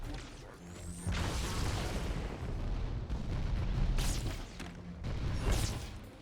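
Grenade explosions and weapon fire in the Halo 2 video game, several deep booming blasts with whooshing bursts, one near the start and others around four and five and a half seconds, moderately loud with no talk.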